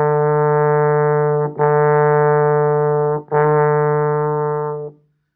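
Three long, steady trombone notes at the same low pitch, each separated by a brief tongued break, played alone and clearly.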